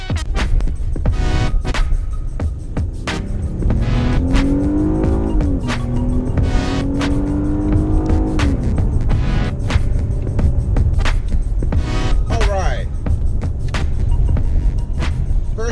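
A 2017 Lincoln Continental cruising in comfort mode at around 50 mph, giving a steady, close road and engine hum with a faint rising tonal whine and intermittent thumps, with no talk.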